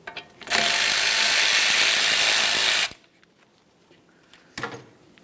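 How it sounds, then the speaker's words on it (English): A ratchet fitted with a 10mm socket backs out an ABS sensor bolt at the front steering knuckle of a 2003-2007 Honda Accord, giving a loud continuous clicking run of about two seconds and then a few short, quieter clicks. "Use a 10mm to remove the bolt."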